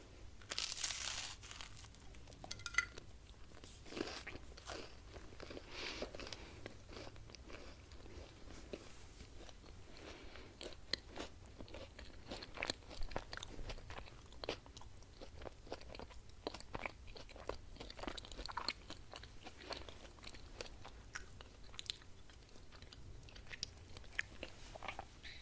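Close, crisp crunching and chewing of toast repeated steadily throughout, with small crinkles and no talking.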